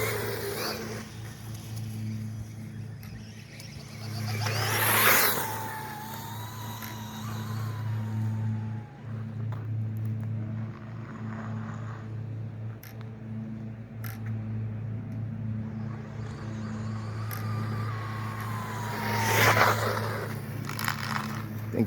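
Losi Promoto MX 1/4 scale RC dirt bike running, a thin electric motor whine that rises and falls in a few revving bursts over a steady low hum, moderately close.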